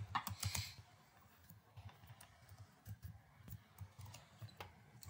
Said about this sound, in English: so you have to just type the domain name